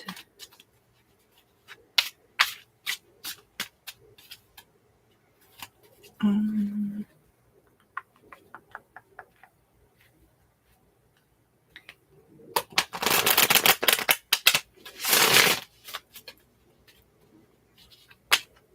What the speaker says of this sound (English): I will be done shuffling your cards just shortly